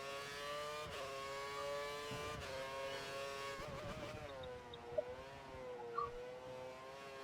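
Formula 1 car engine in the F1 2013 racing game, a steady high-pitched whine with rising and falling harmonics as the car accelerates and shifts, loud and continuous with no talk.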